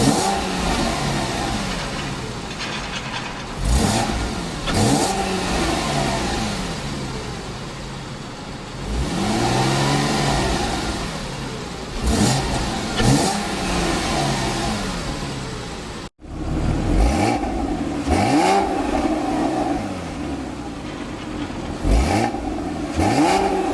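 A 2012 Porsche Cayman R with its sport exhaust switched on revs repeatedly in sharp, loud bursts, rising and falling, with a brief cutoff before more revving close by.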